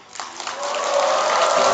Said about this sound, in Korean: 우리 함성과 함께 박수 한번 해. 박수.